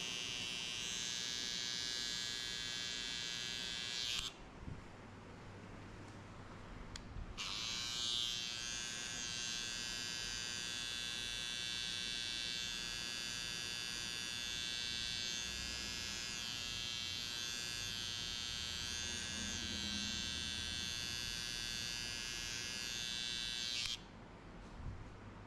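Electric hair clippers buzz steadily through a buzzcut, a close, high-pitched motor whine running in two long passes with a brief pause between them and no talking.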